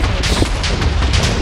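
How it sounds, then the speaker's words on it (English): Explosions in a Minecraft battle sound as a loud, continuous barrage of rumbling blasts and crackling bursts, dense and close throughout. "Explosion!"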